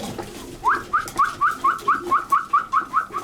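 Racing pigeons at feed give a run of about a dozen short, evenly spaced rising calls, close and clear over a faint background.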